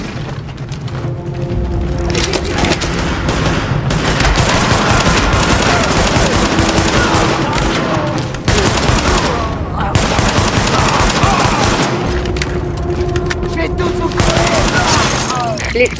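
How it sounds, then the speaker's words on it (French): Sustained automatic gunfire from a rooftop in Tom Clancy's The Division, loud and dense with rapid bursts, briefly cut off around mid-clip before resuming. "L'escorte essuie des tirs en provenance du toit."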